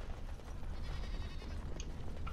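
A goat bleats in the video game Dragon Age: Origins, a couple of short, fairly faint wavering calls over a low ambient rumble, with no talking.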